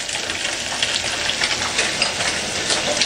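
Chopped onions going into hot oil for a katla fish curry: a steady, fairly loud frying hiss with a crackly texture, unbroken and close, with no voices.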